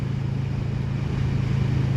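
Kawasaki Vulcan S cruiser motorcycle with a stock exhaust modified with drilled holes, idling with a steady, deep low rumble that holds throughout at close range.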